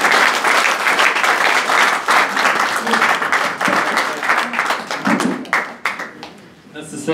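Audience applause after a startup pitch at an evening pitch event, dense clapping filling most of the stretch with some crowd noise and voices mixed in, then thinning and tapering off near the end.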